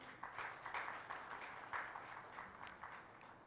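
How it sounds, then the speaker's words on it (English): Faint, distant applause from a conclave audience honouring dignitaries, a soft patter of many hands clapping steadily with no voices. "let's have a huge round of applause once again for all our dignitaries"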